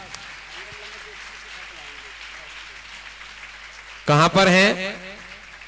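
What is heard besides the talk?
audience applause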